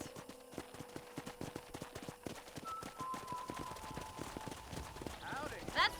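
Horse hooves clip-clop in steady rhythm through the Red Dead Redemption video game, close and distinct, with a short whinny near the end and people talking over them.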